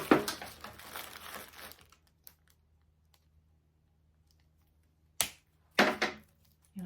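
A stem of artificial grass bush is snipped during floral arranging, giving a few short, sharp crunchy cuts with crinkly rustling at the start and quiet gaps between.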